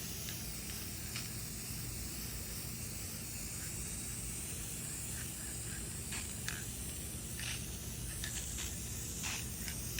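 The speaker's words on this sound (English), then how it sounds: "Then I'm going to seal them with some lacquer to slow down the tarnishing process." Lacquer sealer sprayed onto steel-wool-polished furniture hardware: a continuous close, loud aerosol hiss holding steady throughout, broken by faint brief clicks and taps, no voices.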